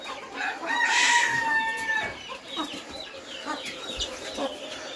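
Brahma chickens clucking while a rooster crows loudly near the start, a long drawn-out crow over scattered hen clucks and farmyard bustle that continue after it.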